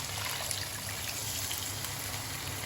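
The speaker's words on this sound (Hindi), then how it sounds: "इसलिए मैंने अब पानी ऐड किया इसमें।" Water added to a pan of frying tinda (round gourd) curry with meat, a steady hissing, bubbling sizzle at close range, faint and continuous with no talking.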